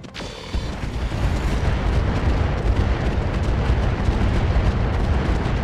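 Missile impacts in the Battletech video game, a sharp initial crack followed by a sustained, loud rumbling roar of overlapping explosions that holds steady throughout.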